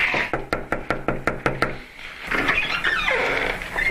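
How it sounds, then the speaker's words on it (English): A police officer raps on a residence door: about nine sharp, evenly spaced knocks, close and loud, followed by shuffling and rustling movement. "decided to knock on the door"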